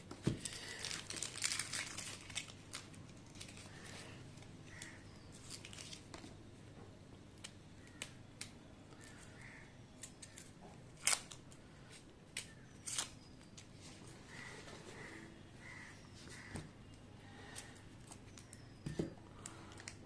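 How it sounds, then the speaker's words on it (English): Onion skins crinkling and tearing as halved onions are peeled by hand, a steady close crackle of papery rustles with occasional sharper rips, no talking. "So 4 onions are already cut into 2 halves. Now I'll just peel it off."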